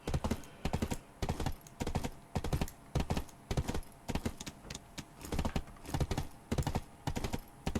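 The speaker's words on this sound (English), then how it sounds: "Horse doesn't run that fast." Horse hooves galloping in Black Desert, a steady, rapid clip-clop rhythm of repeated hoof beats, fairly close and continuous, with no talking.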